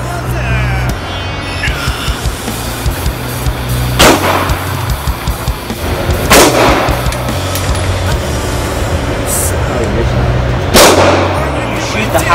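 Gunshots during an outdoor shooting test: three sharp reports spaced several seconds apart, heard under people talking and background noise.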